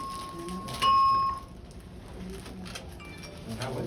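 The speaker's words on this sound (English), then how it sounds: "That's a hell of a lunch bell" An electronic bell tone sounds once for about half a second at lunchtime in a workplace, clear and fairly loud above quiet room noise, with people talking faintly around it.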